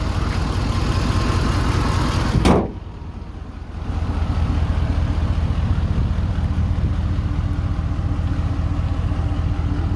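A 2012 Ford F-350 Super Duty Lariat with a 6.7-liter Power Stroke turbo diesel runs steadily, a loud low rumbling drone heard close, interrupted briefly by a sharp knock and a short dip before the engine noise returns.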